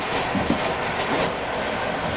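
Model train rolling along its tracks with a steady, close clickety-clack and faint hiss, continuous and fairly quiet, no voices.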